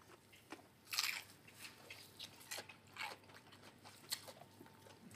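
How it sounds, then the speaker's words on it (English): Someone bites into a crunchy sandwich of good quality meat, giving a sharp crisp crunch followed by a string of softer, quieter crunches and chewing sounds spaced out over a few seconds, close and otherwise quiet. "you hear that crunch straight away"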